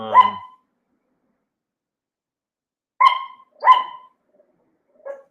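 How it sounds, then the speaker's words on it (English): A Chihuahua yaps in short bursts, one bark, a pause, then two quick barks and a faint final yip, fairly clear against an otherwise silent room. "That dog you hear barking in the background is my sister-in-law's dog, which is a crazy Chihuahua"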